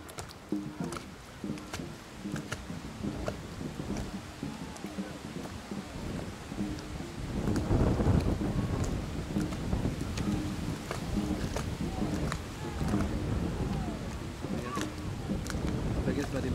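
Wind buffets an outdoor microphone at a school dragon boat championship, with a steady low rumble that swells around the middle. Voices and crowd noise run underneath throughout.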